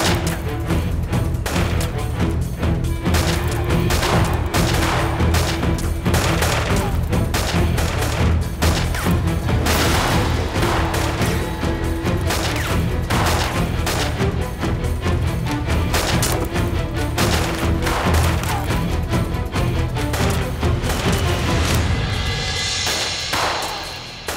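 Sustained gunfire, dense rapid shots and bursts crackling continuously over a loud rumbling background.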